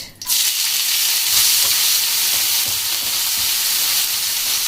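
Onions sizzle loudly in hot oil with cumin in a pan, a steady close hiss and crackle that starts abruptly and continues alone while moong dal is cooked.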